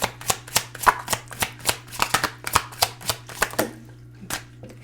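Tarot cards being pulled and flipped from a deck, a quick run of crisp, papery snaps and slaps in an uneven rhythm, close and clear with no talking.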